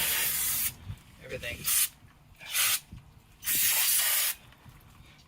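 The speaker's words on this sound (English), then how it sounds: "we're going to give it one more final bath with brake cleaner to make sure" Brake cleaner is sprayed onto the brakes of a Jeep Wrangler JK in several sharp, close hissing bursts of varying length, with someone speaking briefly between them.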